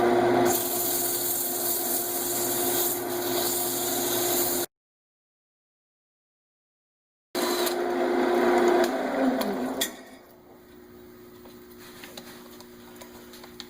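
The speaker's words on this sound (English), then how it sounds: "we'll go ahead and get it sanded up" Steady abrasive rubbing of sandpaper against a spinning spalted maple three-sided bowl on a lathe, loud and continuous, cutting out for a gap, then resuming before dropping to a quieter hum with faint ticks.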